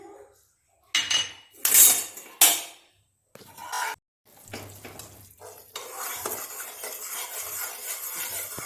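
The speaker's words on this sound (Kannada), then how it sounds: "ಹೀಗೆ ತಿರುಗಿಸೋದನ್ನು ಬಿಡಬಾರ್ದು ಯಾವ ಕಾರಣಕ್ಕೂ." Gram flour being stirred into sugar syrup in a pan for Mysore pak made with oil and ghee, with sharp scrapes and clatters of utensil on pan, then a steady soft sizzle.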